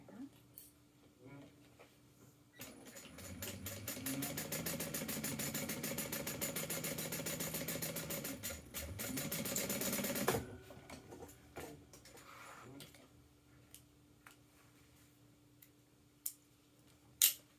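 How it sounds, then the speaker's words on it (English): A sewing machine top stitching across fabric runs in a rapid, even mechanical chatter for about eight seconds, with quiet handling noises before and after. "I'm going to top stitch across there."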